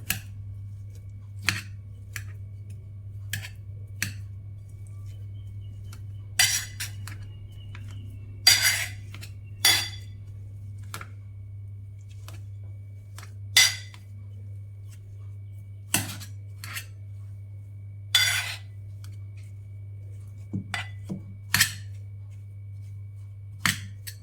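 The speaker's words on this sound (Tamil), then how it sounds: "இந்த மாதிரி ஒரு மத்து வச்சு நல்லா இதை மசிச்சு எடுத்துப்போம்" Cooked sweet potato is mashed with a hand masher in a vessel: sharp clinks and taps at irregular intervals, fairly close, over a low steady hum.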